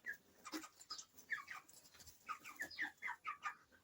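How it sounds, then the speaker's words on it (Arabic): White broiler chickens about 25 days old cluck and chirp around their feed, a scatter of short calls at low level, fairly close, with no one talking. "هاي الفراخ ما شاء الله معانا هم راحوا على الاكل"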